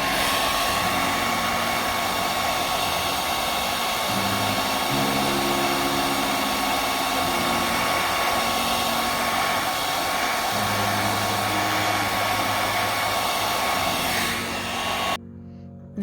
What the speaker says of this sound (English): Now I want to come in with the hairdryer and just dry up these edges so I don't have any bleeds.